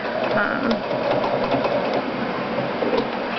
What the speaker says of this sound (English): And it just sews right over it, nice and neat.